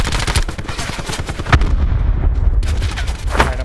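Rapid gunfire bursts in the Black Ops 4 Blackout battle royale, loud and close, with dense automatic volleys in the first half, a sharp single crack, then continuing shots and a final burst.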